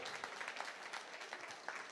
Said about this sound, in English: So give him a clap, yeah!